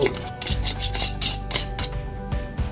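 Metal lids being screwed finger tight onto glass canning jars of roast beef, heard as close, repeated clinks and scraping rattles of metal on glass with no talk.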